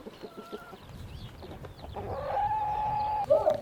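Chickens cluck and murmur close by in a goat barn, with soft scattered clucks building to a louder, drawn-out squawk and a sharp final call.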